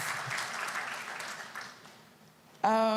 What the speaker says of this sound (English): So a round of applause for UNESCO